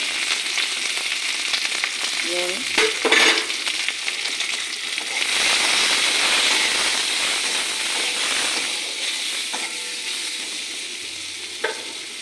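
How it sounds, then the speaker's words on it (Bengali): Capsicum and onion fry in oil in a wok, giving a steady loud sizzle and hiss. Scrapes and stirring knocks come through in several spots, and no voices are heard. "আমি ক্যাপসিকাম আর পেঁয়াজটা ভাজা করি"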